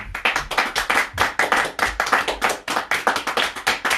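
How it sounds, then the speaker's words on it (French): A church congregation claps in a fast, steady rhythm during a prayer service, many hands close together, loud and even, with no voices over it. "Acclamons encore pour notre Dieu."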